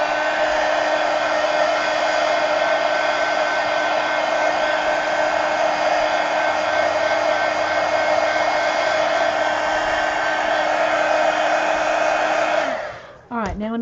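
A hair dryer roars loud and constant close by for about thirteen seconds, drying paint on a pumpkin decorated with mixed media collage, then cuts off with a short falling whine.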